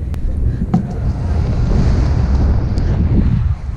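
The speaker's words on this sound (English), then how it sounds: "that freaking headwind sucks. Or whatever. The wind going the wrong way." A strong headwind buffets the microphone during a scooter run on a mega ramp, a loud, continuous low roaring rumble with a few faint clicks and no clear talk.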